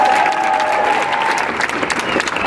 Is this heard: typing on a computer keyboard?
no